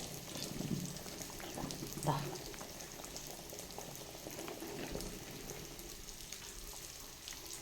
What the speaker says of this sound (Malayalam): തിളച്ച് നന്നായിട്ട് തിളച്ച് വരട്ടെ